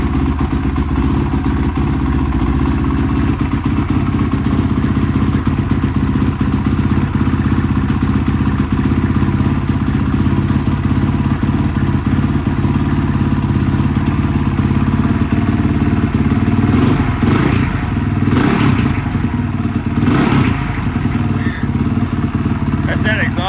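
A Honda 450R dirt bike engine runs steadily and loudly throughout, a continuous rough mechanical drone with a few louder revving bursts and clatter near the end.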